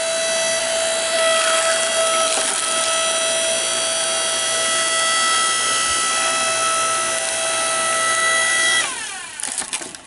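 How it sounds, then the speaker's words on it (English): A Woodeze electric log splitter runs steadily on firewood, its motor giving a constant loud whine for about nine seconds before the tone drops and the wood creaks and crackles as it splits. "Split firewood."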